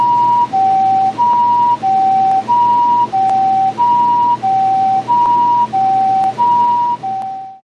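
An ambulance siren sounds loud and near in a clean two-tone hi-lo pattern, alternating about every half second and repeating steadily until it cuts off at the end.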